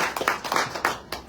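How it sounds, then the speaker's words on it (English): A few clustered hand claps from the audience at a UK peace award ceremony in Leeds, uneven and fairly close, fading in and out over a short stretch. "Please join me, give them a huge round of applause."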